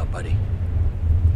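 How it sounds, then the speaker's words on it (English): Thunder rumbling in the video game Bad Company 2, a steady loud low roar that fills the whole moment, with a brief higher sweep near the start. "Wait for the thunder."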